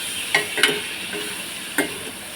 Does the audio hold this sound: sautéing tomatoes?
yes